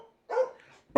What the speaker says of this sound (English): That dog does not know when to stop barking when someone comes to the door.